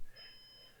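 A Synology NAS server beeps its alarm for a degraded storage pool, a steady high electronic tone held through the short moment at low level against faint background hum.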